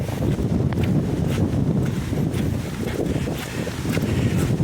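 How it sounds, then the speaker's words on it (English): Strong gusts of wind roar steadily and close into the microphone in the aftermath of Hurricane Helene in Morganton, North Carolina, with a constant low rumble of buffeting air. "the wind has died down to a trickle, while some occasional strong wind gusts"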